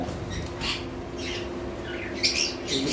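A pair of ordinary lovebirds squawks in short, sharp bursts among other faint chirps, moderately close, over a steady background hum with no talking.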